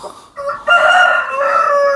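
A Brahma rooster crows once, close and loud, with a short rising start before a long sustained strained call that holds to the end, with no talking.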